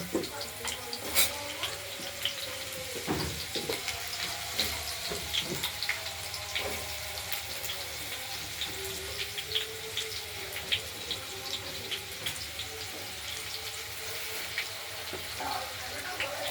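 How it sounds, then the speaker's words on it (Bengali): Potatoes fry in a pan for a paneer curry, giving a continuous close sizzle scattered with sharp crackles and pops throughout. "আলুগুলোকে একটু ভাজা ভাজা করে নেব।"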